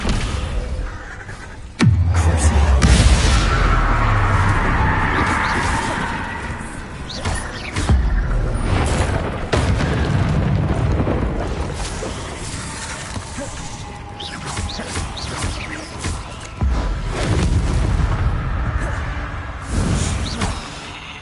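In Hogwarts Legacy, the Descendo spell slams down with a heavy, booming crash and a long rumbling roar, followed by further crashing impacts and whooshes.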